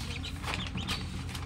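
Newly hatched chicks from a first batch of twelve peep and chirp faintly in a steady, overlapping cluster, with a low background hum underneath.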